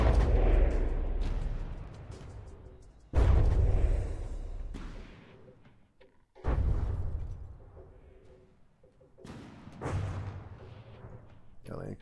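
Heavy shells fire from a Landkreuser tank in a video game, four deep booming blasts spaced a few seconds apart, each with a loud onset and a long rumbling decay into quiet.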